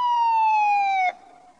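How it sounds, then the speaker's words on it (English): A police car siren wails loudly and steadily in one sustained, slowly falling tone, then cuts off abruptly into a faint fading tail. "A police car came to the telephone box."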